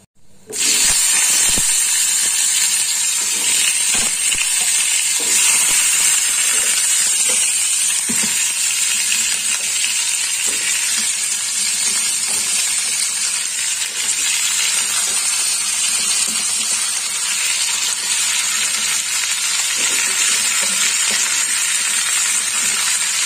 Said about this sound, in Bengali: এবার ভালো করে একটু ভেজে নেব।